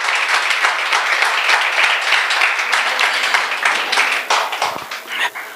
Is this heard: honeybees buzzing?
no